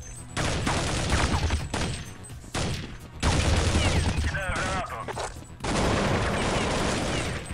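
Rapid bursts of gunfire from Counter-Strike 1.6, loud and dense in clusters with brief gaps, while someone talks over the shooting.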